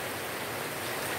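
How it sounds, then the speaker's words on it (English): Steady rain falls on a cloudy day in Lae, Papua New Guinea, a dense even hiss with no distinct drops and no voices over it. "it's raining now"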